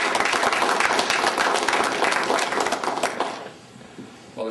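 Audience applause at a Right to Life gathering, loud, dense clapping from many hands that holds for about three seconds and then quickly dies away into near quiet.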